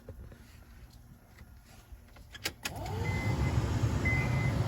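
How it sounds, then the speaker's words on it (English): A Honda blower motor fan, jumper-wired to run at full speed when the ignition switch turns on, starts after a few faint clicks and swells into a steady, loud whirring hum. "As soon as you turn the ignition switch on, the fan should run at full speed."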